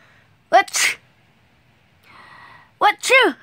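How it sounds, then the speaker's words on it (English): Two sharp, close sneezes separated by a short pause with a faint tonal hum between them, each a quick loud burst with a rising and falling voiced tail, indoors on a rainy day. "Someone's sneezing or something."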